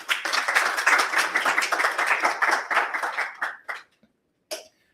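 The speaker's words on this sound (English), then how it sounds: "Please give a hand clap for Natalie L." An audience at a business recognition event in Atlanta breaks into steady hand clapping that holds for about three and a half seconds, then fades into a few scattered claps and a last isolated clap.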